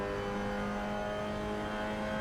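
A Mazda MX-5 Cup race car's four-cylinder engine holds a steady, droning full-throttle note with a sustained tonal whine from the cockpit, heard constantly through the short stretch without talk.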